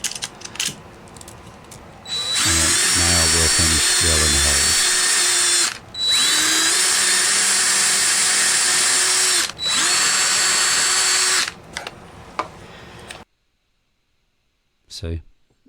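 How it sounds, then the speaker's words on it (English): A power drill bores tuner bushing holes in the headstock of a vintage Hohner Shark fin guitar during restoration. There are three loud, steady whining bursts with brief pauses between them, then quiet handling noise and a short click at the end. "And now we'll finish drilling the holes."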